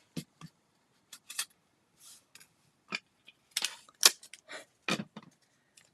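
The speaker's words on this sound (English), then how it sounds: "let's grab some sentiment label dies and die cut these bad boys" Sentiment labels are die cut with label dies in a card-making session, producing short mechanical clicks, snaps and rustling handling noises in irregular bursts with silence between, close to the microphone.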